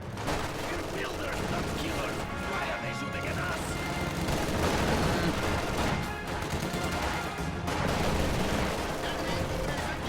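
Machine gun fire and dense gunfire rattle through a video game battle, with continuous loud bursts, explosions and crashes, while a voice talks over the fighting.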